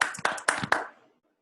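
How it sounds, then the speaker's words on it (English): A small audience gives a brief burst of hand clapping to welcome a speaker at a talk. A handful of fairly close claps sound over about a second, then die away into silence. "Please welcome him by your claps."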